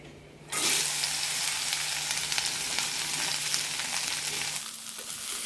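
Sliced okra sautéing in about one and a half teaspoons of hot oil in a pan for a lady's finger curry, a sudden loud sizzle bursting in after a brief quiet moment and hissing steadily throughout, with occasional stirring.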